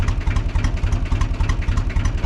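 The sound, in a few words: cold tractor engine running at full throttle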